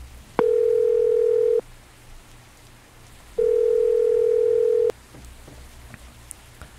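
A steady telephone dial tone inside a video game sounds in two long, loud, even bursts of about a second and a half each, separated by a quiet pause, with no talking.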